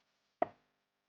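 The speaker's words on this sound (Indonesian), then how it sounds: "Lakukan sampai semua adonannya selesai dipotong." A single crisp knife cut through soft cheese stick dough on a board, one sharp close thud with a short tail, in an otherwise quiet kitchen.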